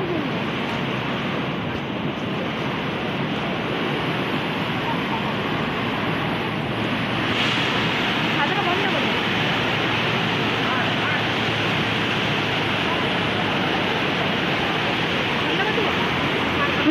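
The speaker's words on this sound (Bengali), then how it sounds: "আর এখানে জলের স্রোতটা একবার দেখো গাইস, জলটা দেখেই আমাদের ভয় করছে।" Strong floodwater rushes over a submerged bridge in a loud, continuous, unbroken roar, with wind buffeting the microphone.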